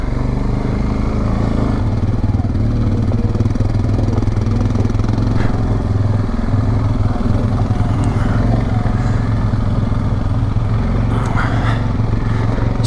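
Suzuki King Quad 750 ATV riding a mountain trail in Idaho, its mid-pitched engine droning steadily and close throughout with faint rattles and trail noise layered over it.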